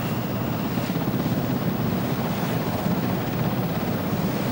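Steady helicopter rotor thrum over the sea with rushing wind noise, constant and fairly loud throughout.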